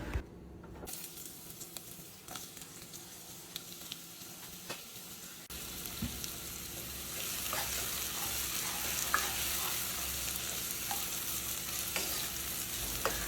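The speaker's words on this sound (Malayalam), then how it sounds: "വലിയ ഉള്ളി ഒന്ന് ഗോൾഡൻ കളറാകുന്നത് വരെ നമുക്കൊന്ന് ഇത് വഴറ്റി കൊടുക്കാം" Chopped onion sautés in ghee and coconut oil. A quieter stretch with scattered clinks gives way to a fuller, steady sizzle, with occasional stirring scrapes and pops close by.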